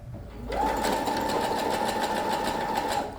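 A sewing machine stitches through thick, layered dirndl fabric in one fast, continuous whirring run of about two and a half seconds, close and loud, with no talking.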